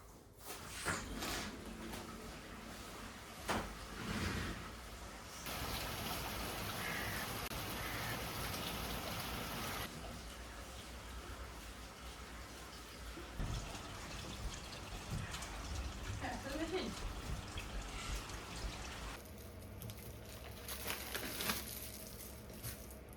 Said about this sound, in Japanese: 雨の音してる